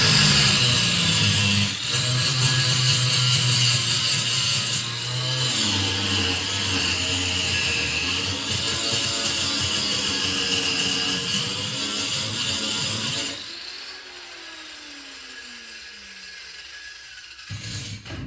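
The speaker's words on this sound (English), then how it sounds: "I'm using this grinder. I'm just grinding them down to nothing" An angle grinder grinds down stuck screws with a loud, sustained, close whine that shifts in pitch as it bites, then cuts out and spins down near the end.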